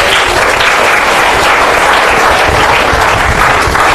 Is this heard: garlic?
no